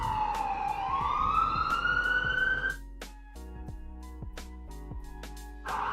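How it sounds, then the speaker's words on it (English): Emergency vehicle sirens passing outside an open door: a loud wailing siren sweeps up in pitch, then cuts to quieter steady tones and pulses before a burst returns, fairly close, with no speech. "Sorry about the sirens."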